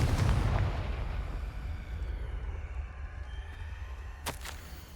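A fire spell explosion in the Hogwarts Legacy video game opens with a loud, deep boom. A long low rumble follows, then fades, and a sharp crack comes near the end.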